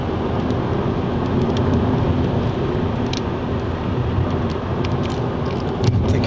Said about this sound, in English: Yeah, it's just starting to rain here, so coming up to Central.